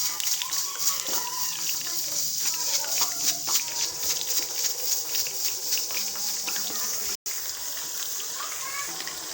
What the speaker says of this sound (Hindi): हमारा ऑयल गर्म हो गया है। अब हम इसको फ्राई करेंगे। अब हम कबाब एक एक करके इसके अंदर डालेंगे।